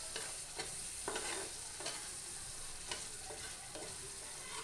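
A spice paste that has begun releasing its oil fries quietly in a pan, a faint, even sizzle broken by occasional soft stirring scrapes.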